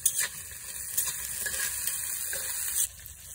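Onion and green chili fry in oil for a Bengali village egg fry, a bright, close sizzle with scraping stir strokes and spatters that cut off near the end, no talking.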